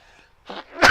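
A single sharp sneeze bursts out close by after a brief breathy intake, loud and sudden in an otherwise quiet moment.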